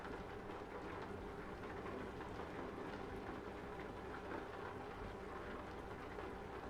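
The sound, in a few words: rain in a video game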